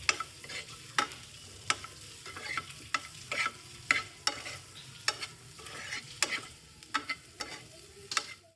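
Boiled, cut potatoes are dry-fried in a pan, a quiet sizzle under frequent sharp scrapes and taps of a spatula against the pan at an irregular rhythm, close and alone.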